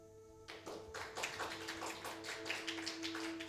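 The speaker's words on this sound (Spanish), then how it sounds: "Un aplauso al hermano." A church congregation applauding a brother during a sermon, the clapping starting abruptly after a brief hum and carrying on as a fairly faint, steady patter of many hands over a low sustained tone.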